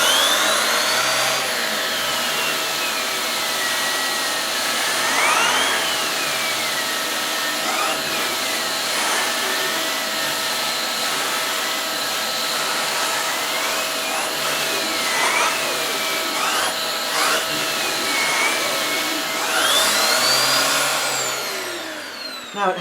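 Vax Air 3 upright vacuum cleaner with its turbo nozzle, picking up pet hair: a loud, steady motor whine runs throughout, rising and falling as the head is pushed back and forth across fabric.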